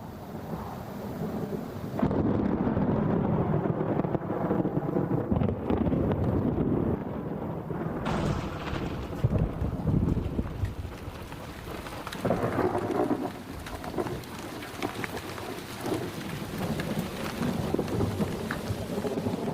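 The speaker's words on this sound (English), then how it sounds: "The wind brings a change in the weather. Sudden storms are typical at this time of the year." A sudden thunderstorm sweeps over open Spanish countryside in Extremadura, with gusting wind rumbling into the microphone, steady heavy rain hissing loudly throughout and thunder rolling through the downpour, no voices.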